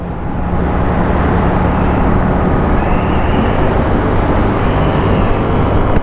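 Steady road noise with a continuous rumble of passing vehicles, loud and close, with no one speaking.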